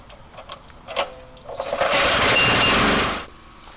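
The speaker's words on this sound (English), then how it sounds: "Fire up the generator." A portable generator, used to power a wet and dry vacuum during driveway cleaning, is started with a few quiet knocks followed by a sudden loud buzzing engine roar that holds for about a second and a half, then cuts off abruptly.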